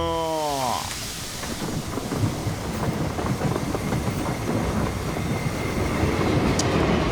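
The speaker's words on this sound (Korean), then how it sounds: "자 기차 출발합니다" Train rumbling and clattering along the rails in the battle royale game PUBG (Battlegrounds), a steady, continuous rolling roar with rhythmic wheel clicks, briefly preceded by a tonal horn-like chime at the start.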